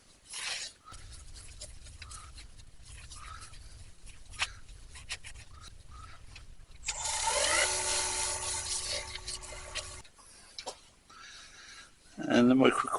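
Wooden bowl turned from a branch being sanded on a spinning lathe, a steady rasping hiss holding for a few seconds midway, with quieter tool and handling noises around it and someone talking before and after.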